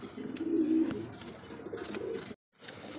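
Indian Lotan racer pigeons cooing up close, a soft throaty coo rising and falling for a couple of seconds before a brief silence.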